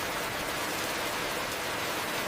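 Steady rain hissing evenly, a constant wash of falling water with no other sounds.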